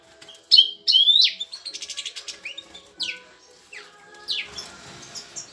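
Goldfinches and other birds in an aviary chirp and trill in bright, clear bursts, with a few louder calls standing out against a quiet background.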